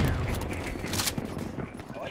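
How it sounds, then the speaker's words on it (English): Shotgun fire in the video game Black Ops 3 multiplayer, dense loud bursts and booms packed together over a constant roar of game noise. "Rocking a shotgun, guys."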